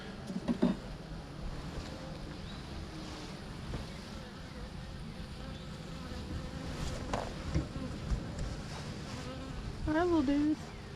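Honey bees buzz faintly around an open hive as they are being set up on a farm, a soft, uneven drone under wind noise, with a brief nearer buzzing pass toward the end.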